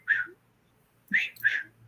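A person whistles a few short notes, one brief call, a pause, then two more rising and falling whistles, imitating a bird-like up-down whistle.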